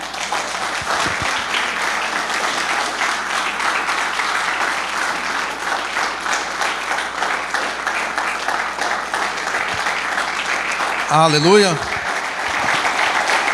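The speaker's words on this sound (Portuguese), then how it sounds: "Você pode aplaudir o Senhor?" A church congregation stands and applauds the Lord, steady sustained clapping filling the room throughout, with a brief shout of praise from a voice near the end.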